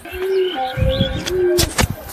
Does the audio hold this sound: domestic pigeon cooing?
yes